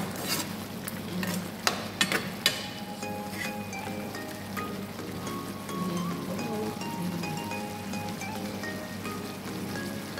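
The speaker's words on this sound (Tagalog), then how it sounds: "malapit na pong maluto ang shrimp with garlic. Pinapatuyuan ko na lang po siya ng sabaw." Shrimp with garlic frying in a pan as the broth cooks down, a continuous crackling sizzle with a few sharp clatters of utensils early on and faint background sounds.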